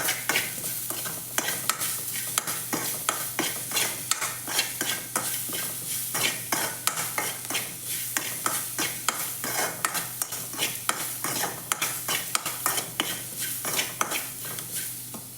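A spoon scrapes and stirs salt and turmeric through a frying pan while making gooseberry rice, with repeated rhythmic clinks and scrapes of metal on metal over a soft, steady sizzle, close and fairly loud, with no voices.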